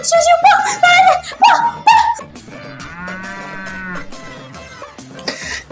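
A cow moos in a drawn-out low call in the second half, preceded by loud voices talking and exclaiming in a Tamil comedy skit about fetching milk.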